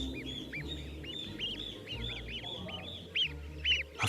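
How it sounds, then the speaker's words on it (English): Small goose hatchlings peep in rapid, repeated high chirps that overlap continuously, close by, over a low background rumble, while the young birds follow a human they have imprinted on. "A few hours later, the hatchlings are already following their oversized mother goose wherever he goes."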